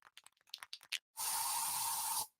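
An aerosol can of bug spray is discharged indoors in one steady, close hiss lasting about a second, preceded by a few soft clicks and taps.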